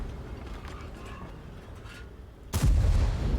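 Enemy tank gun firing in a tank video game, a single sudden loud boom near the end that cuts in after a low rumbling background and rings on heavily.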